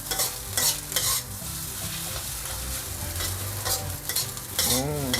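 Continuous sizzling with repeated scraping and clanking as rice with fermented bean curd is stirred and tossed in a wok, spatula strikes recurring in an irregular rhythm.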